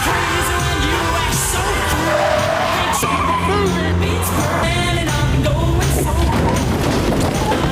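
A bread van races away in a car chase, its tires skidding and squealing loudly in long screeches over roaring engines, with occasional heavy thuds throughout.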